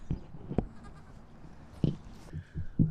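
A goat at a homesteading gathering gives several short, close bleats spaced irregularly, with quieter background noise between the calls.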